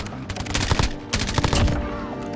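A dense barrage of rapid gunfire in a battle royale–style video game crackles continuously, with overlapping bursts and sharp shots close by amid busy in-game noise, loud throughout.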